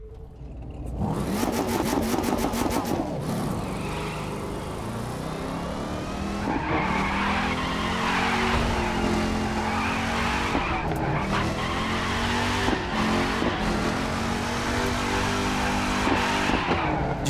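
A Dodge Challenger SRT8 drifts in the racing game The Crew 2. Its engine roars and revs continuously while tires skid and squeal in long slides, loud and close, with no talking.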